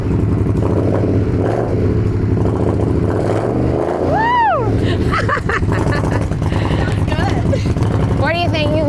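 Custom Indian Scout motorcycle engine running loud and steady for the whole stretch, with a rising rev around the middle and voices talking and cheering over the rumble.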